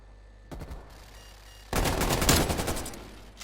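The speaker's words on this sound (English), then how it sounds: "I can hear gunfire" Rapid gunfire in Call of Duty: Black Ops Cold War, first a short, quieter burst of shots and then a louder, sustained automatic volley close by.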